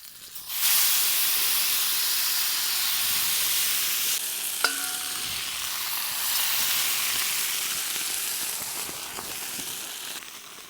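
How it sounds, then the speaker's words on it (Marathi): A splash of water hits salted brinjal frying in hot oil and sets off a sudden loud, hissing sizzle. It continues as a steady, close steaming hiss, with one brief clink partway through. "वांगे आपण तेलामध्ये चांगले परतून घेतले तर आता याच्यामध्ये टाकून घेऊ मीठ. याच्यावर मारू थोडासा पाण्याचा शिपका."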